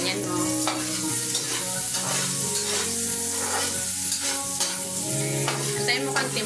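Onions fry in a pan, a steady close sizzle with stirring scrapes running continuously and fairly loud, with no voices.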